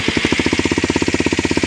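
A Kawasaki Ninja motorcycle engine fitted with an Arrow exhaust with a welded baffle runs at a steady idle, its loud, rapid, even pulses thumping close by.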